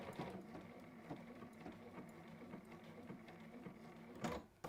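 A computerized embroidery machine finishes off a stitch, giving a quiet, regular ticking and whirring with evenly spaced mechanical pulses, then a brief louder clatter near the end.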